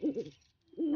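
An owl hoots in a doll-play scene in a forest, two low hooting calls separated by a short quiet gap, fairly close and clear with no talking over them.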